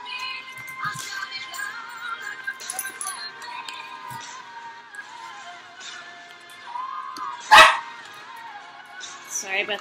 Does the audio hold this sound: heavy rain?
no